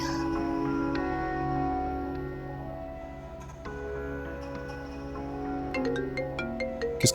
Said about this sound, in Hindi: काशिफ का फोन आ रहा है।